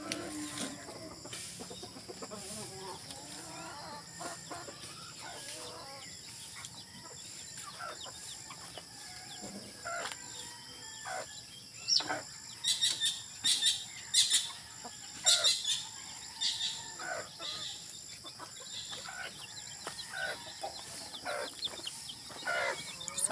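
Tethered rooster clucking and calling in a backyard flock, with scattered short clucks and bursts of chirping from other birds, moderately close and fairly quiet, no one talking.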